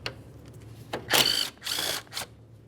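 A power tool spins out a 10mm mounting bolt from the center of a bracket on a 2012-2018 Nissan Altima 2.5L during an AC condenser replacement, heard as three close, loud whirring bursts separated by short pauses.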